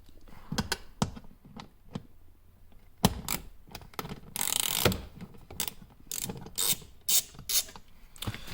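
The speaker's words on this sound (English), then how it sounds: "So for this one, it is a 10mm socket." A ratchet wrench with a 10mm socket loosens a ground bolt on a 2021 Toyota RAV4 Prime, giving bursts of rapid, close mechanical clicking with short pauses between strokes.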